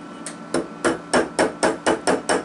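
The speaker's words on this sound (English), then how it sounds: "This is just a little nylon hammer from Joann's." Small nylon hammer tapping the outer edge of a metal pill box lid, eight or nine evenly spaced, close, crisp taps in a steady rhythm with no talking.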